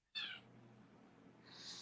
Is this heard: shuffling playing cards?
no